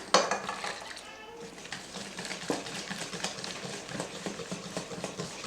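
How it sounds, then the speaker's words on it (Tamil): Crepe batter of egg, flour and milk whisked in a bowl, with steady scraping and clinking strokes that keep a busy rhythm throughout, close and moderately loud, with no talking. "இப்போ மைதா மாவு போட்டு அதையும் சேர்த்து நல்லா கலக்கணும்."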